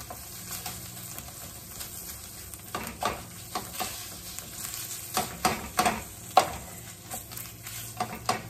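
Spatula breaking up chorizo frying in a pan, a continuous sizzle broken by close, repeated scraping and tapping strokes that grow busier toward the end.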